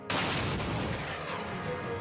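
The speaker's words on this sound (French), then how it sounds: "Ils ont alors tiré un deuxième obus" A single heavy tank cannon shot booms loudly, then a rolling rumble fades out behind it.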